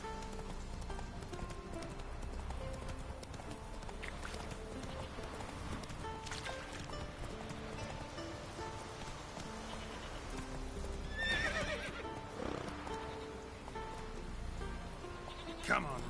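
Horse sounds from The Witcher 3 on PS4, with hoofbeats and a neigh mixed into busy game audio and music, fairly quiet throughout.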